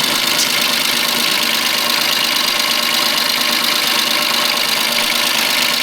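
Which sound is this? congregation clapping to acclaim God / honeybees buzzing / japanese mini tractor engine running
japanese mini tractor engine running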